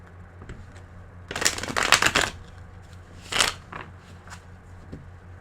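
Tarot cards are shuffled close by in two quick bursts of rapid riffling flutter, a longer one then a shorter one, with quiet pauses and a few soft taps between.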